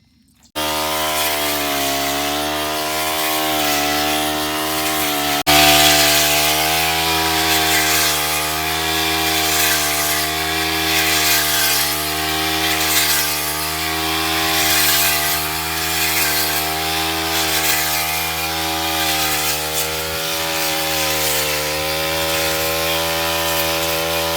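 A petrol brush cutter cuts through tall fodder grass on a farm, its engine holding a loud, steady droning whine close by for the whole stretch with no pauses and no talk.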